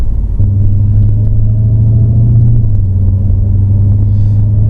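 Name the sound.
Dodge Challenger Hellcat engine rumbling while accelerating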